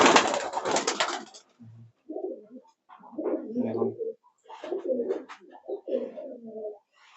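Kaldama high-flying pigeons in a loft, cooing in soft, repeated bursts close by, with a short burst of rustling or flapping at the start and quiet pauses between the coos.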